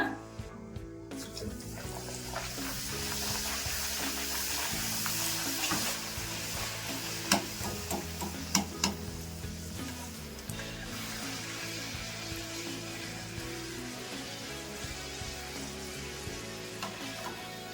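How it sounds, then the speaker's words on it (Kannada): Bedmi puris made with urad dal dough deep-fry in hot oil, dropped in one at a time, giving a steady loud sizzle and bubbling with a few sharp clatters and stirring scrapes partway through. No one speaks. "ಇವಾಗ ಒಂದೊಂದೇ ಹಾಕೊಂಡು ಕರ್ಕೊಂಡ್ಬಿಡೋಣ"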